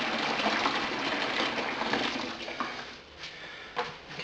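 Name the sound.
boiled tap water pouring from a tap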